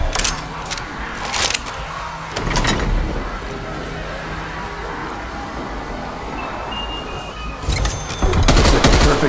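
Submachine-gun bursts from a Call of Duty Cold War Zombies match, with loud rapid volleys at the start and again near the end, separated by a stretch of quieter mechanical rumble and background game noise.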